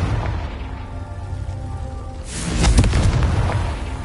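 Confringo fire spell blast in the Hogwarts Legacy video game, a booming explosion that swells up near the middle of the clip with a crackling, rain-like rumble trailing after, over steady game ambience.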